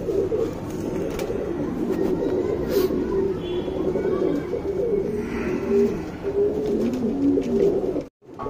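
Tournament racing pigeons, including a breeding hen, coo steadily and close by in repeated low throaty rolls, with the occasional chirp from other birds in the loft.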